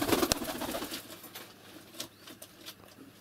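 Pigeons cooing softly in a loft or dovecote where adults tend their nestlings, a low murmuring call with some faint patter and rustling, fairly quiet and without any talk.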